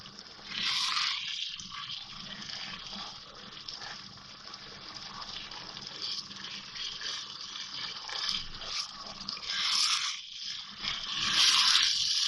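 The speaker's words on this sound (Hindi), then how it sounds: "टमाटर सॉफ्ट हो गए थोड़े से, तो इसको इस तरह से मैं मैश कर दूंगी हल्का सा।" Softened tomatoes mashed in a pan for an aloo matar keema, with wet squelching, scraping and soft sloshing in uneven bursts, close and moderately loud, no speech.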